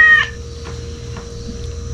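A short cat meow at the very start, close and clear, then only a steady low hum and faint background noise. Recorded outdoors at a ranch during a meal of fried tilapia and sashimi.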